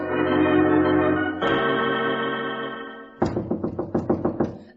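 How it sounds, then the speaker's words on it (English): Knocking on a door as a sound effect in an old Sherlock Holmes radio drama: a quick run of about eight loud, urgent raps close up, following sustained music. "I was awakened by the maid rapping frantically at my door"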